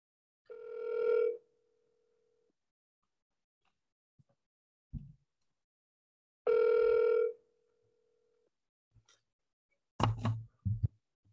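Outgoing telephone call ringing back through the earpiece, two long tone bursts several seconds apart over silence, followed by a few soft knocks and clicks.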